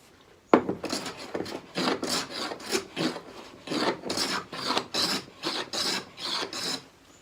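An H.N.T. Gordon A55 smoothing hand plane shaves wood in a steady series of close, rasping strokes, roughly a dozen passes in quick rhythm with no talking.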